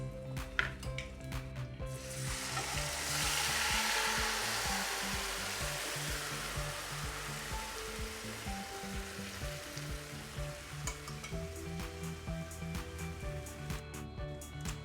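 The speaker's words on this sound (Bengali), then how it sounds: "এখন আমি মাছটা ছেড়ে দেবো এতে।" Prawns drop into hot oil with nigella seeds and slit green chillies, bursting into a loud hiss that settles into a steady sizzle, with a few light clinks of a pan and utensil around it.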